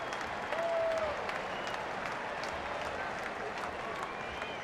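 A ballpark crowd at a Reds versus Pirates game in 2004 applauds Jose Castillo as he steps in to bat, a broad, steady wash of distant clapping and crowd murmur with a faint whistle early on.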